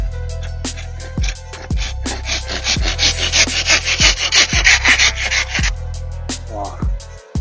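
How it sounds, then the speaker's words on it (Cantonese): A Silky hand saw cuts through wood in a steady run of rhythmic rasping strokes, close and fairly loud, over a constant low hum. "以下落嚟咧就係一把Silky嘅手鋸啦。"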